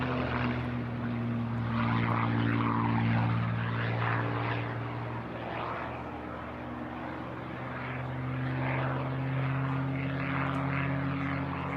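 Propeller warbirds in a flying display at the Eastbourne International Airshow, with a loud continuous engine drone and prop buzz that swells and fades slightly as the aircraft pass, and no talk.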